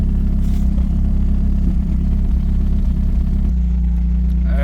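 A Mazdaspeed 3 with a fueling fault idles after warming up, holding a steady, loud low rumble with a slightly high idle, continuous and close with no talk over it.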